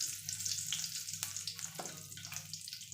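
Curry leaves dropped into hot oil with mustard seeds crackle and sizzle loudly in a pan for an egg gravy, bright hissing with scattered sharp pops close by, no talking.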